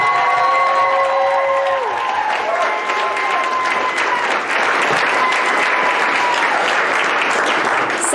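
A loud crowd at a Pride Day event claps and cheers steadily, with whoops and shouts rising above continuous dense applause throughout.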